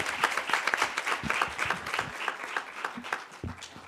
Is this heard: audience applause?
yes